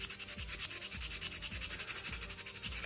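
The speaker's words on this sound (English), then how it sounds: "smooth these, sand these down to be smooth, so the trigger assembly moves freely" Rhythmic sanding of 3D-printed plastic BB gun trigger assembly parts, steady back-and-forth strokes repeating about every half second, close and moderately loud with no talking.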